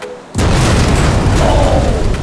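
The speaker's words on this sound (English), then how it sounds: "You can take a look, the first explosion from the right corner." A chocolate-filled yacht is blown up with explosives, a sudden loud boom that bursts in after a brief quiet moment and roars on as a sustained, rumbling blast.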